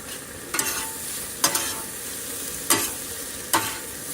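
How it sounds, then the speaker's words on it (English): Garlic sizzling in butter on a griddle for cheesesteaks, a steady frying hiss broken by four sharp scraping stirs of a spatula at roughly one-second intervals, close and fairly loud with no talking. "can you smell that garlic cooking, Rita?"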